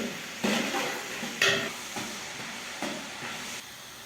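Onions sautéing in a pan for chicken biryani, cooked until golden, giving short bursts of hissing sizzle as they are tossed and stirred, fairly faint and close.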